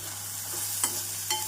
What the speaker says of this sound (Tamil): நாம் இஞ்சி பூண்டு விழுது போட்டு நன்றாக கிளறி விட வேண்டும்.